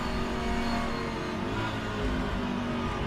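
The engine of a historic sportscar roars as it revs hard in a racing game around Le Mans, a loud continuous growl heard alone.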